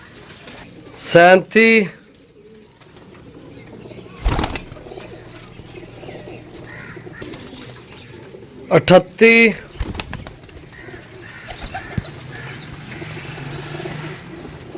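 Pigeons coo in a few separate bursts, with sharp wing flaps and fluttering between them, close and fairly loud, while a man counts aloud nearby.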